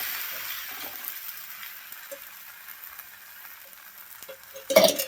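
Thalipeeth, a mixed-flour Maharashtrian flatbread, crisping in oil on a pan, giving a soft continuous sizzle with faint ticks and a brief louder clatter near the end, no voices.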